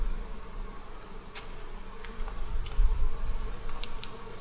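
Honey bees buzz around an open beehive during a fall inspection, a constant low hum close by with a few brief louder swells as individual bees pass near.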